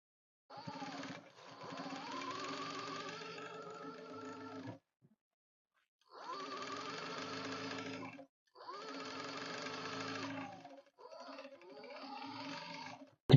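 Sewing machine stitching the side seams of a Kashmiri pheran, running in four or five whirring bursts of a few seconds each with short pauses between them, close and clear with no talk.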